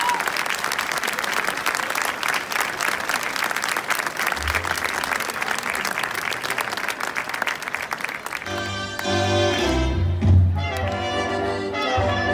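Loud, sustained audience applause at the 2019 Mataró carnival after a musical performance by a band, dense clapping for about eight seconds before sustained musical tones take over.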